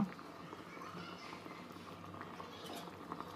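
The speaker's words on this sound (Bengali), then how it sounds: "এবার ঢাকনা দিয়ে দু চার মিনিট ফুটিয়ে নিলে সবজিটা কমপ্লিট হয়ে যাবে" A pot of drumstick and potato curry simmers with soft, continuous bubbling and light patter, fairly faint and steady throughout.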